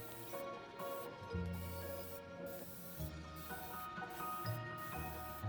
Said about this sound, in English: I threw it in my airbrush and got to spraying.